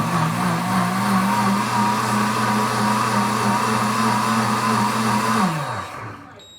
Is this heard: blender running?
yes